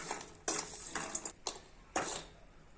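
A utensil scrapes and clinks against a pan in short strokes, about four or five in all, while small fish fry and are stirred. The stirring sounds close but fairly quiet, with no voices.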